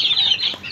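Frightened desi chickens on a farm, a quick flurry of high clucks and squawks mixed with wing flapping, fairly close.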